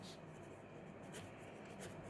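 Chalk or marker writing on a board during a maths class, a faint continuous scratching with brief strokes, quiet and close, with no talking.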